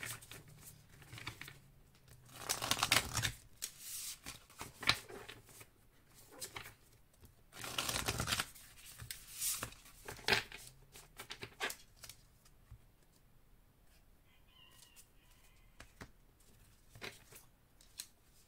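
Tarot cards being shuffled and cut: close, papery riffling and sliding in bursts, with crisp flicks and quieter handling between them, fading to near silence toward the end.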